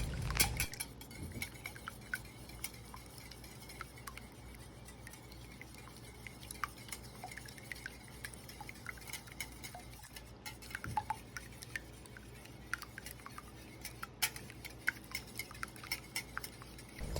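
A single egg is beaten in a bowl, with steady quiet clinks and taps of utensil against the dish continuing over a long stretch, soft and close, with no talking.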